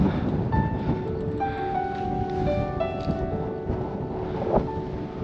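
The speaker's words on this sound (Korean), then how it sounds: "와 바람 장난 아니네" Strong seaside wind at a coastal observatory on Geoje, buffeting the microphone in a steady roar with brief gusts and scattered tonal whistles, and no voices.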